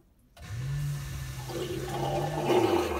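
Flushing toilet on a Rogger 1000 boat: a sudden rush of water with a steady low droning hum underneath, heard close and alone in a small cabin.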